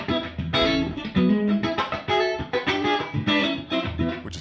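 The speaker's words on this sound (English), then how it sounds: "on the amp I actually have a harmonic vibrato and that sounds like this" Electric guitar playing a short phrase of notes and chords through an amp's harmonic vibrato, pulsing and wavering, loud and up close.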